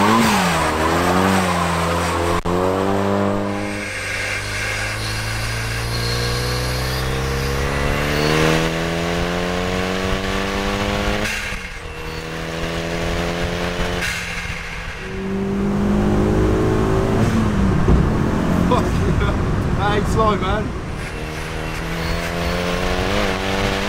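A Renault Kangoo van fitted with a swapped Megane 225 turbo engine drives through city streets, its engine note rising and falling through repeated gear pulls, loud and close throughout with no talking.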